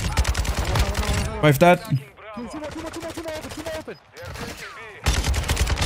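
Rapid automatic gunfire in a competitive shooter game, loud bursts of dense shots cut by short pauses, with a player's voice talking over the shooting.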